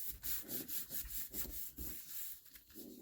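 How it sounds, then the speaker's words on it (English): Paper is rubbed by hand during card making with stamps, a quiet rhythmic series of scratchy swipes close by, about a dozen strokes with no talking. "I'm going to turn this upside down so I can rub it."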